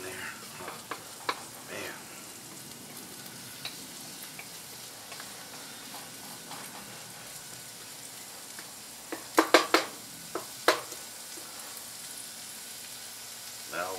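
Beef stir fry sizzles softly in a pan while being stirred, with a steady low crackle broken by sharp clinks of a utensil against the pan; a voice briefly speaks once.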